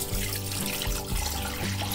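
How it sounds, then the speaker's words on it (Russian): Cold water runs steadily from a kitchen tap into a pot holding jars of raw meat, a loud continuous rushing splash close by with no talk. "Заливаю холодной водой из-под крана."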